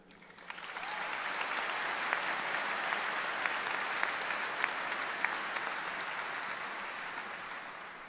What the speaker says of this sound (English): let me invite you to offer them your thanks with a round of applause